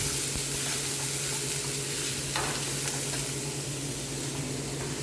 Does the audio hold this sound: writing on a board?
no